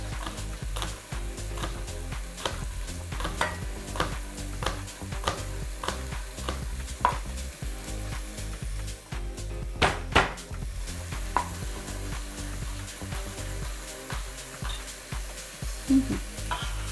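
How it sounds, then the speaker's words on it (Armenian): Garlic frying in a pan for a pumpkin and chickpea stew, a steady sizzle with scattered stirring scrapes and occasional pot clinks close by, no talk. "Քիչ տաբագում ենք, որպեսզի սխտորով ինքը համեմվի։"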